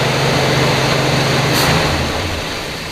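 A 1966 Ford Galaxie 500 V8 idles steadily at 1750 RPM, giving a loud, close, continuous engine drone and hum with no voices.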